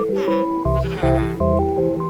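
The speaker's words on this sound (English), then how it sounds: "Oh, he's got sheep." Sheep bleating in the Minecraft video game, several wavering bleats overlapping with steady musical game tones, fairly loud and with no talking.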